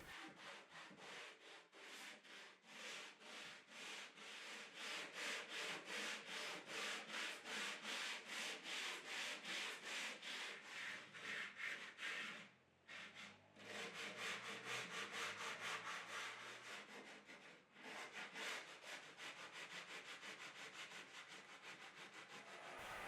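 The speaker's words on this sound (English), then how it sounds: "using some 80 grit sandpaper with a sanding block to make sure that I don't put any depressions into the roadbed" Sanding cork model railway roadbed by hand with 80-grit sandpaper on a sanding block, close rhythmic back-and-forth rasping strokes in long steady runs, with two brief pauses, no voices.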